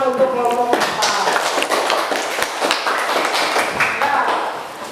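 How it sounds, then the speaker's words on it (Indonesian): Applause for a student group presenting in a school classroom, a dense, steady patter of many hands clapping close by that fills the whole stretch, with a brief voice heard at the very start. "tepuk tangan untuk kelompok 4"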